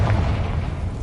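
A Confringo fire spell in Hogwarts Legacy bursts with a single deep, booming explosion that rumbles briefly and fades, heard alone.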